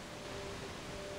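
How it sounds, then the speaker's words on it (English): Steady pink noise fills a room, a smooth broadband hiss at an even level for the whole stretch, with a faint tonal hum sitting underneath. "inside Scentsy, we have this sound. It's called pink noise."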